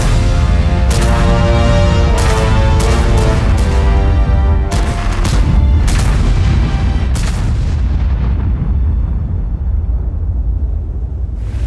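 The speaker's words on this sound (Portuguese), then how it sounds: "O som dos tiros será mais profundo e autêntico." A series of loud, deep tank cannon blasts in World of Tanks, about eight heavy booms spaced unevenly, each with a rolling tail that fades into quiet at the end.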